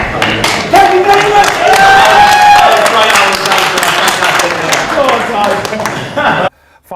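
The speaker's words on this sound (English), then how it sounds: "We've got to give that a round of applause, ladies and gentlemen." A boxing event crowd applauds and cheers loudly and steadily, a continuous wash of clapping and voices with a host's voice over it, ending abruptly.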